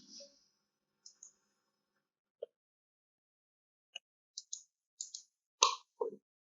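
Sparse computer mouse clicks while working in 3D modeling software, a handful of brief, faint, crisp ticks scattered over near silence, with a couple of quick double clicks toward the end.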